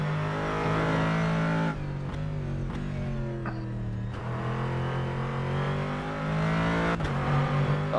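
Callaway Corvette C7 race car in rFactor 2 at Sebring: a loud, steady engine note that rises and falls through gear changes as it exits a turn, heard close and without talk.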